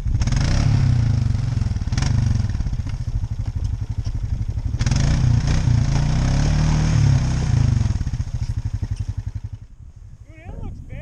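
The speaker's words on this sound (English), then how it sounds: "we're gonna hop on the four-wheeler and go to the other side of the lake" A four-wheeler ATV engine rumbles loudly and steadily while driving near a snowy, wet lakeside, with a brief surge in the middle, then cuts off near the end as voices take over.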